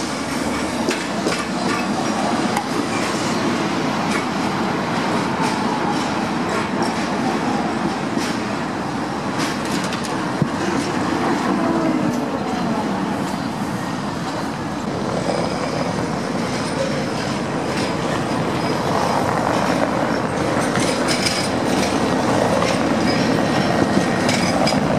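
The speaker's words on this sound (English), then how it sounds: "let's take a look at some trams going through the centre of town" Old, worn trams rattle through the town centre of Lviv, a steady clattering rail rumble with wheel clicks and occasional squeals running continuously throughout, fairly close and loud with no talk.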